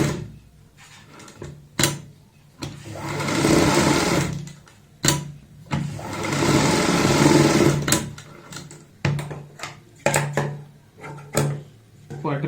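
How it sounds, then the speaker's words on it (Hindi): A sewing machine stitches buckram onto fabric in two sustained close runs of whirring, with clicks, handling noises and brief pauses around them. "बुकरम के साथ साथ सिलाई लगाएंगे।"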